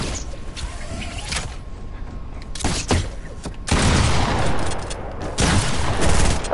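Shotgun blasts in an online 1v1 video game match, several heavy booming shots spread irregularly through the clip, loud and close, with game ambience in between.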